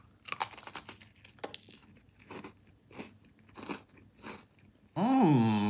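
Someone bites into an Oreo topped with a pickle and chews, giving a few crisp crunches followed by softer, wet chewing close to the microphone, then a brief burst of other noise at the end.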